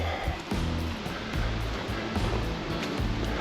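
A river flowing beside a woodland walking trail gives a steady, full rushing wash of water throughout, with faint low thuds and shifting underneath.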